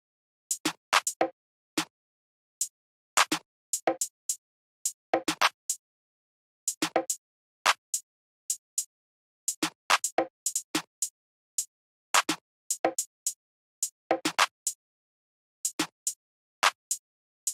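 Simple sampled drum pattern in a dark beat, with short, dry, clicky percussion hits falling on the offbeats in a steady repeating loop, crisp and close with silence between hits.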